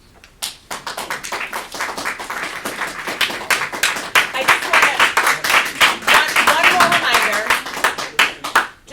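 An audience at a village board of trustees meeting breaks into sustained applause, dense overlapping claps building in loudness and thinning toward the end, with voices talking underneath.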